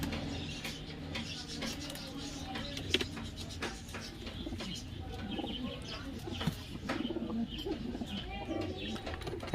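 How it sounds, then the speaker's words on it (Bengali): Several pigeons, including Kaldama and Giribaz breeds, make soft low cooing and rustling noises close by in a loft, with occasional faint chirps and bumps throughout. "দেখুন কত সুন্দর সুন্দর পায়রা।"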